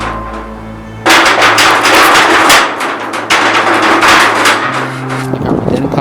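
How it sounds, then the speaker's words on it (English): Loud repeated banging on the far side of a garage door, a rapid run of heavy thuds starting abruptly after a quiet moment and continuing irregularly to the end. "we can hear banging on the other"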